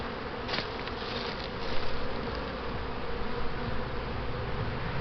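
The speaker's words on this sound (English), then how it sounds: "I'm assuming we got bees emerging out of that." Honey bees hum densely and continuously over comb on new foundation, a close, steady swarm buzz with no voices.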